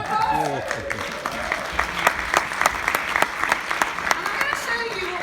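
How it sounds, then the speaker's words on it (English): A live audience at a fitness demonstration gives a round of applause, scattered sharp claps building into rhythmic clapping while voices call out and chatter over it. "Round of applause."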